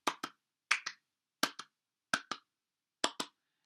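A single person claps in a repeating pattern, imitating mocking, sarcastic applause: five crisp pairs of quick double claps, evenly spaced, close and clear against silence.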